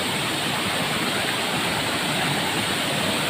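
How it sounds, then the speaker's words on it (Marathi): Rainwater rushing in a stream during the first monsoon rain in Konkan, a dense, steady, broadband roar of flowing water filling the clip without pause. "आता हे पावसातून असंच सारखं पाणी जात राहणार"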